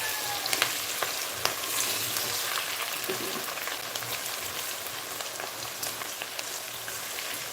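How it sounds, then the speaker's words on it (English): Carrots and onions fry in oil with crumbled Knorr cubes for a carrot ginger soup, giving a steady, close, rain-like sizzle that holds evenly throughout, with a couple of faint clicks. "So go ahead and stir it around. Get those Knorr cubes working in that oil."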